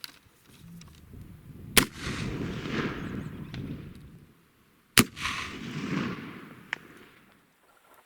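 Two loud, close black-powder blasts from a P53 Enfield rifle-musket, several seconds apart, each followed by a long rumbling echo that fades out.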